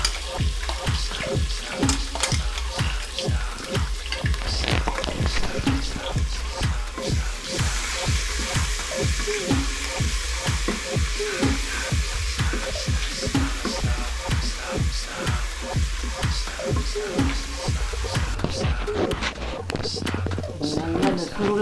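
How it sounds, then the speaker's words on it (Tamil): Ginger garlic paste sautéing in a multipot for tomato rice, a steady crackling sizzle with regular scraping stir strokes, close and fairly loud throughout. "இஞ்சி பூண்டு விழுது. அது கொஞ்சம் நல்லா வதக்கி விட்டால் தான் நல்லா வாசமாக இருக்கும்."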